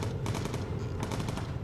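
Bomber turret machine guns in the game Bomber Crew fire in steady rattling bursts, loud and close, two short runs of rapid shots separated by a brief pause, with no talk over them.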